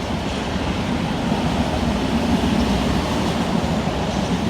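A Class 66 freight train, lightly loaded, passes at Stevenage with a loud, steady rumble and roar of wagons and wheels rolling close by, and no voices are heard.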